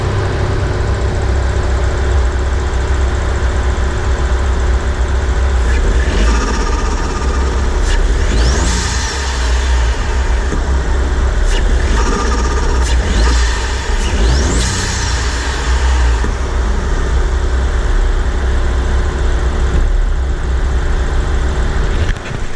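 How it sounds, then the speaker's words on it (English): A car with a V6 turbo engine and an exposed intake is revved a couple of times, a loud continuous engine roar with rising and falling sweeps as the throttle is blipped, and intake whoosh heard close up with no talking. "let me give it a couple revs real quick with the this right over here so you can hear it"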